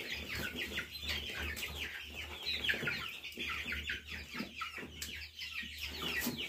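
Chickens cluck and squawk continuously at close range, several birds overlapping in a busy, uneven chatter over a low background hum.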